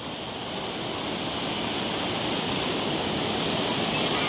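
Water flowing along the Kedarnath Yatra trail, a loud, continuous broadband rush like a stream or waterfall close by, steady and swelling slightly, with no voices.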